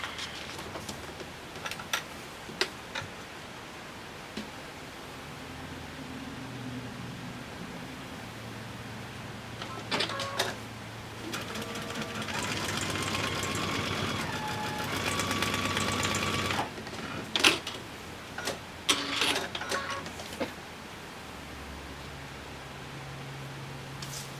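A sewing machine stitches down fabric in short bursts with pauses between runs, its steady mechanical whir loudest in a sustained run near the middle, heard close up and alone with no talking.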